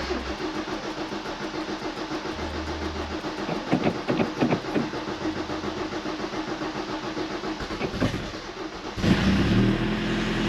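A Toyota Cressida engine with an empty fuel filter cranks with a rapid rhythmic whirring, stumbles several times, then catches and settles into a steady idle.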